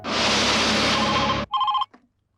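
A telephone in a tense kidnapping drama rings loudly and continuously for about a second and a half, followed by a brief second burst of ringing that cuts off abruptly into silence.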